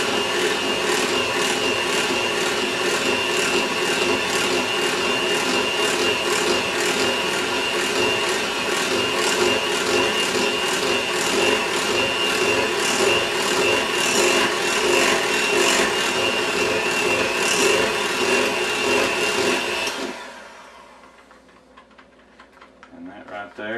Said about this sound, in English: going to use the lowest speed. Start mixing it up, rotating the bowl,